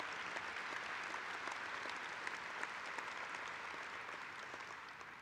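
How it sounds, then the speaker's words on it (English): Sustained audience applause fills a union convention hall of the Communications Workers of America, a dense, steady wash of many hands clapping at even loudness throughout, with no speech over it. "Give them a round of applause, because they're going to do it."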